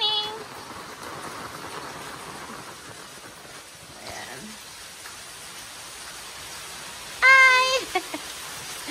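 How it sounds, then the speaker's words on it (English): Steady rain hisses throughout, with a voice calling out briefly near the end. "It's raining!"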